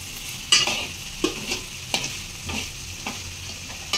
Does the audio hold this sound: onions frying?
yes